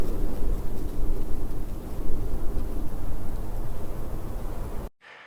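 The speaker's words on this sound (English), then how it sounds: "here's some winds of nature from that same free song" Steady broadband wind rushing outdoors, constant and fairly loud, with no clear gusts or other sounds, cutting off abruptly near the end.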